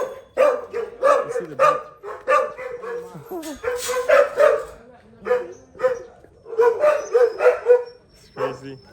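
Aggressive village dogs bark repeatedly in sharp, uneven bursts nearby, loud and insistent, with people talking in between and over the barking.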